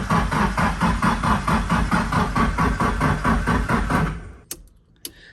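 An SR20-swapped Datsun 510 cranks over with a fuel pump missing, giving about four seconds of loud, even, rhythmic starter churning that cuts off without catching, followed by a couple of sharp clicks in near silence.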